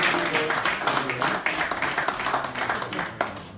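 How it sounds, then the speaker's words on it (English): Audience applause for a speaker at a public event, dense steady clapping from a crowd that carries on throughout, with a few voices mixed in. "A round of applause for David, ladies and gentlemen."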